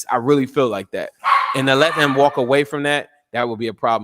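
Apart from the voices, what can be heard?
dog barking in the background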